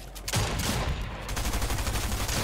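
Gunfire in Fortnite: a burst of loud, rapid shots blurring into a continuous crackling barrage, close and dense throughout with a brief dip midway.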